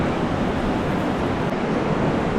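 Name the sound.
rushing, rising underground river in a cave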